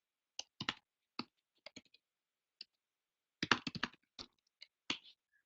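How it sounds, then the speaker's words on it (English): Keys clack on a computer keyboard in short irregular bursts, crisp and close, with brief pauses between runs of typing. "I'm typing this up."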